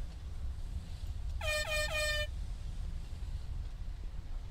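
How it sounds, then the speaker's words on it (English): An air horn blast sounds once for just under a second, a bright stacked tone over steady low background rumble, with no one talking. "Air horn."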